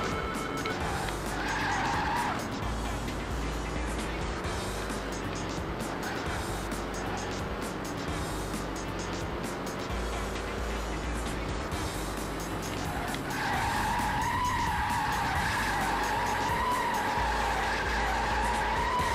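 Race car engine roaring with repeated tire skids and squeals while driving in the Xbox racing game Test Drive Overdrive, loud and continuous with a steady engine drone and recurring screeches.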